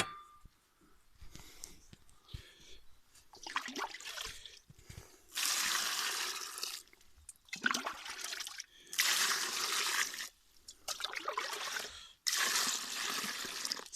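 Water poured in several long gushing bursts into a clay and tuff mixture set to soak, close splashing and trickling separated by brief pauses, no speech.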